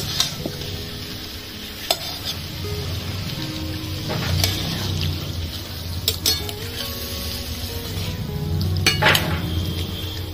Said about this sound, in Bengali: মশলা ভালো করে কষিয়ে নিয়েছি, দিয়ে দেবো জল